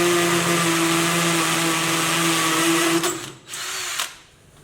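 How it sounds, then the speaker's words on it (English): An INGCO 20V cordless hammer drill in hammer mode bores into a concrete block with a steady, loud, rattling whine for about three seconds, then stops, gives a short second burst and winds down. "we're going to go into the concrete block in hammer mode"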